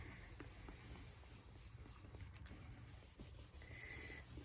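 Paper pressed onto a Disney-themed pop-up mini album page and rubbed down by hand, giving a soft continuous close scuffing hiss over a low background hum.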